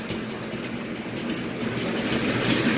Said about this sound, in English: He does struggle a bit to pull this because it's a heavy train, especially around the corners.